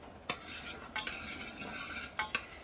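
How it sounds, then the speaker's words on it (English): A utensil stirs a pot of freshly boiled homemade fish bait, giving a few quiet scrapes and sharp clinks against the metal at irregular intervals, close and without talk. "stir it a few more times"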